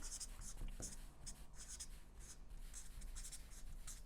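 Chalk or marker writing on a classroom board during a seventh-grade math lesson on exponents, a steady run of short scratchy strokes at close range with faint room noise under it.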